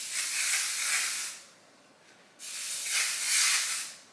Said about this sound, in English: A little hairspray.